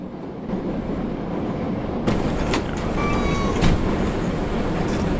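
A moving train in the video game Demo Friend rumbles steadily with a dense low roar, clattering wheel noise and a few sharp metallic clanks and squeals, with no speech.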